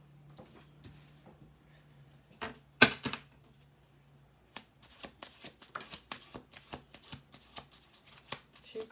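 Tarot cards shuffled by hand, then dealt and laid down on a table in a quick series of soft, crisp slaps and flicks, close and fairly quiet with no talking.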